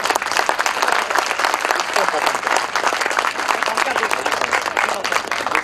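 Dense, steady applause from a lecture audience at a university job fair, many hands clapping together for the whole stretch with a murmur of crowd noise underneath.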